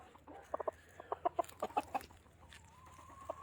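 Backyard chickens, a rooster and hens around scattered scratch feed, cluck in short bursts of close, rhythmic notes, with a faint high call behind and no talk.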